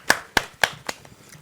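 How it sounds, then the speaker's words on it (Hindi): A handful of sharp, separate hand claps ring out close by at a poetry gathering, about four or five of them in a slowing rhythm that fades away after a second, with no voices. "जोरदार ताली के साथ हम उनका स्वागत करें"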